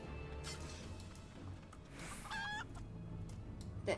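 A chicken in the video game Final Fantasy XIV lets out a few short clucks and a squawk over a steady background game hum, fairly quiet and close.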